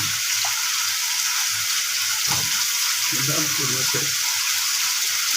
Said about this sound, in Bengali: মাছ দিলাম, মাছ কষানোর জন্য দিচ্ছি